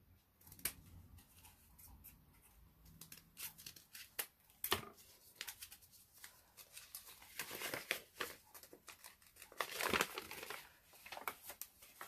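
Scissors snip through folded material while a doll-size suffragette hat is being made, giving a series of close, crisp cuts and crinkly paper-like rustles that come in irregular bursts separated by quiet pauses.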